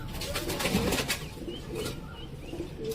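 Pigeons of a closed-tail high-flyer breed flap their wings in a broad rustling burst, followed by soft, low cooing that comes and goes close by in a dim loft.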